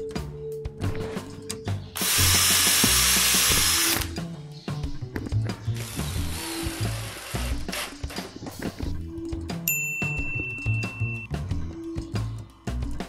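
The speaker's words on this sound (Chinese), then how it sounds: "我就用 3mm 的钻头引孔" A power drill fitted with a 3 mm bit bores a pilot hole into wood for a 3.5 mm screw, a loud sustained whine lasting about two seconds, followed by a shorter second burst amid handling clatter.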